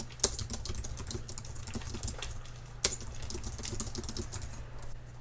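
Steady, quick clicking of fingers typing on a computer keyboard, close and fairly quiet, with a couple of louder key strikes and a low hum underneath.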